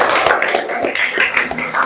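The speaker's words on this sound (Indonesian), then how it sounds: "beri tepuk tangan bersama." A school class on adolescent reproductive health claps together at the end of a lesson, a short burst of close, uneven hand claps with audible individual hits.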